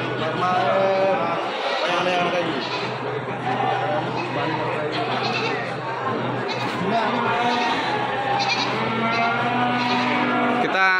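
Goats bleat repeatedly at a livestock market in Wonosobo, Indonesia, amid a busy crowd's chatter and noise, with animal calls rising through the steady din.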